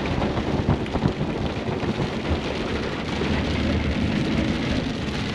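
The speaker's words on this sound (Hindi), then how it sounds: "और बारिश देखिए स्टार्ट हो चुकी है" Steady, dense rain pours during a thunderstorm on a narrow hill road near Pachmarhi, a continuous loud hiss with low rumbling underneath and no voices.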